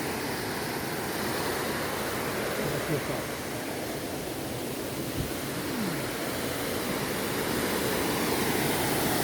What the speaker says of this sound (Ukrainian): Ось тут вода.